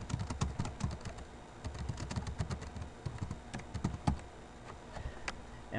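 Rapid, irregular keystrokes on a computer keyboard, close and fairly quiet, in bursts with short pauses and no voice.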